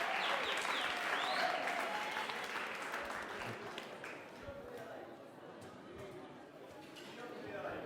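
A live show audience in Paris bursts into loud applause and cheering that slowly fades, with voices mixed into the clapping crowd.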